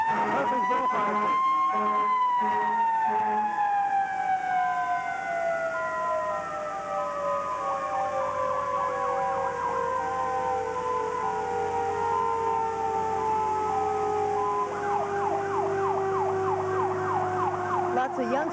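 A fire truck siren wails loudly through a 1982 Murphysboro Apple Festival parade, its long tone sliding steadily downward over about eighteen seconds while a band plays underneath and the crowd bustles around.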